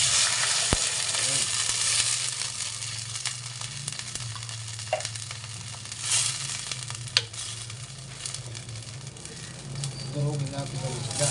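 Canned Hokkaido fish hits a hot pan and sizzles steadily, a dense frying hiss with occasional stirring scrapes and clinks, while a person speaks near the end.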